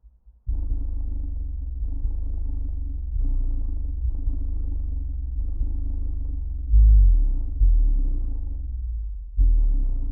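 An Orion XTR PRO 12-inch subwoofer pumps deep, loud bass in repeated pulses, heavy low thumps and rumble with a few harder hits toward the end.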